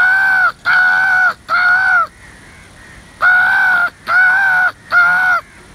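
Several crows give loud, harsh caws in two bursts of three, each call drawn out and close by, with a brief quiet gap between the groups as the birds gather in response to a man calling them.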